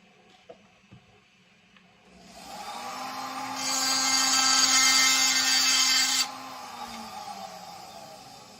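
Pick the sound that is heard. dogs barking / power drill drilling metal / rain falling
power drill drilling metal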